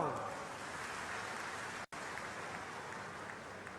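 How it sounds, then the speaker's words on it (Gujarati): A crowd at a public event in Banaskantha, Gujarat, breaking into steady applause, a dense wash of clapping that fills the clip, with a brief gap in the middle. "તાળીઓ તો પાડો"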